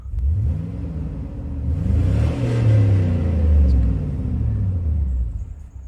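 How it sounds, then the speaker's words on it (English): Pickup truck with Flowmaster exhausts idling then revving, a loud, steady low rumble that swells with each rise in revs before settling, close and alone. "you can just see this truck will run all day long"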